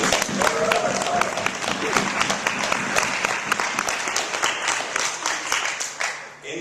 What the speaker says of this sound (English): A big round of applause for the panel, please.